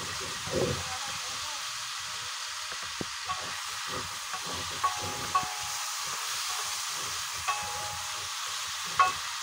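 A spatula stirs sautéed chayote and squash in a pan over a soft, steady sizzle and hiss, with occasional scrapes and clinks against the pan as it's mixed.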